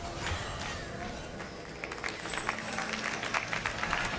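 A crowd at a League of Legends esports match claps in steady applause, with a voice talking over it.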